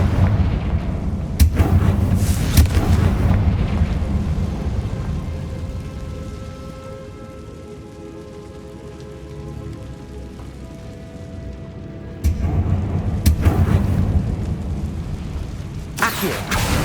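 Confringo fire-spell explosions in the Hogwarts Legacy video game: heavy booming blasts in bursts near the start and again toward the end, with a rumbling, rain-like roar of debris and ambience between them.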